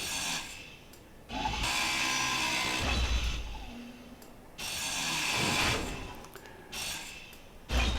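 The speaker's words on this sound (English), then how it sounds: "I'll just show you what happens if I accidentally grind this down" A grinder tool grinding down a cargo container block in a video game, harsh whirring bursts that start and stop in several intervals of a second or two each, fairly close and without talk.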